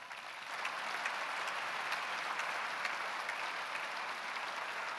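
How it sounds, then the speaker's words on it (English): Sustained audience applause for award sponsors at an awards ceremony, a dense steady wash of many hands clapping that swells in after a brief start and holds evenly throughout. "Let's give them a big round of applause."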